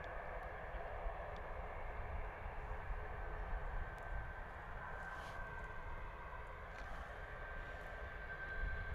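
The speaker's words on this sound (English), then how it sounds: "our TUI has been pushed back and given clearance to start its taxi down to runway 27 this morning" A TUI airliner taxis toward runway 27 at Bristol Airport, a steady broadband engine roar with a faint high whine holding level and moderately distant for the whole stretch, no talk over it.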